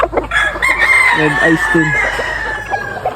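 Gamecock stag crowing at a farm among other fowl, a clear drawn-out crow near at hand with clucking around it while someone talks over it.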